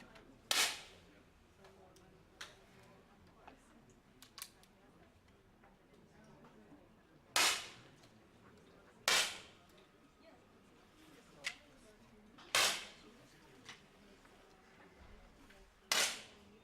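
Air pistols fired at a women's 10 m World Cup shooting competition in Munich, with sharp isolated cracks from nearby and farther lanes spaced irregularly over several seconds, plus faint ticks and clicks in a quiet hall.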